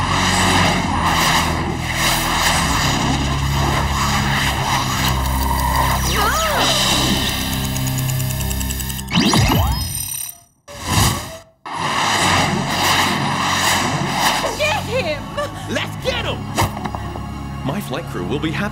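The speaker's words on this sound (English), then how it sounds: "I've just increased Blingjet's speed to a nutty 1 million miles per hour" A cartoon jet streaks along at tremendous speed, a dense roaring rush layered with whooshing effects and music, briefly cutting out before surging back, with voices talking over parts of it.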